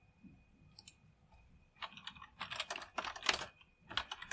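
Code being typed on a computer keyboard, close and quiet: a few scattered keystrokes, then rapid bursts of clicking keys with short pauses and no voices.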